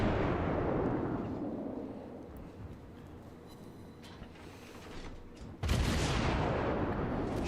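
A cruiser's guns fire in World of Warships on the Ocean map, a heavy booming salvo whose rumble decays slowly, then a second loud salvo erupts sharply near the end.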